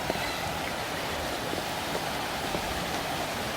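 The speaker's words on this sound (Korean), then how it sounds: "야영장 바로 옆에 계곡이 있습니다" A narrow mountain stream with a good flow of water runs beside a campsite at the Gariwangsan natural recreation forest, making a steady, close rushing wash with no talking.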